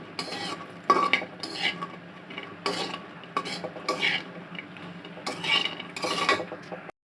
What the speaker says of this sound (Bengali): ফুলকপির তরকারি রান্নার জন্য আমি এখানে পেঁয়াজ কাঁচামরিচ ভেজে নিচ্ছি।